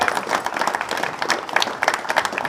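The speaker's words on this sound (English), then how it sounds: "Give him another round of applause." Steady audience applause fills a bench press championship venue, dense overlapping claps sustained and fairly loud from start to end.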